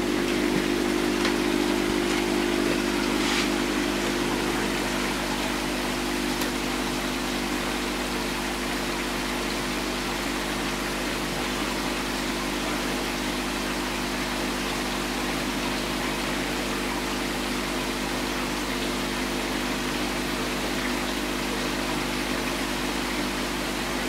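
Air pump running into a DIY aquarium dome filter packed with K1 media, giving a steady close hum with a continuous wash of bubbling and gurgling water throughout and no voices.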